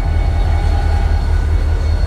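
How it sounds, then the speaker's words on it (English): Train rolling past outside a thrift store, a steady loud low rumble and rattle of wheels and cars, continuous and close, without talk. "Not often you see a train go by when you're looking at the golf clubs in the thrift store."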